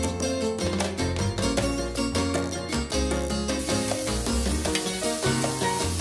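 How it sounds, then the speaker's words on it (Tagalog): Butter sizzling in a new, hot cast iron pan before garlic and steak go in, a steady crackling sizzle throughout, loud and close, with a rhythmic background layer over the first half. "mainit na yung pan natin. Maglalagay na yun tayo ng butter."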